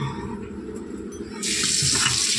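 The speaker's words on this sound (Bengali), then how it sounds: "তোমাদের সাথে কথা বলতে বলতেই ধুয়ে দিই" A gas stove part is rinsed under a kitchen tap: a low trickle of running water first, then the flow opens into a louder, steady hiss of water splashing into the sink.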